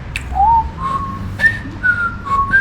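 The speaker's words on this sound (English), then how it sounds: "do you remember the theme to it? Can you whistle that?" A person whistles the Andy Griffith Show theme tune, a few clear, sustained notes rising and falling in a short melodic phrase. The whistling is close and loud, with light background noise.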